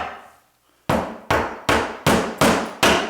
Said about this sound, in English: nailing on your first course for this interior application